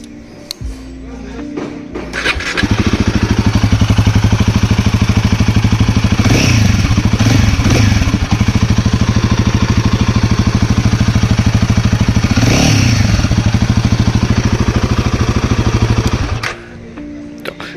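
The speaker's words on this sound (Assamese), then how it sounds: "এতিয়া আপোনাক মই অডিঅ'টো মানে হেৰিটো এক্সজষ্ট নোটটো শুনাই দিওঁ" A Royal Enfield Himalayan 450 motorcycle engine starts up and runs with a steady, throbbing exhaust note, revving up twice before shutting off. Close and loud.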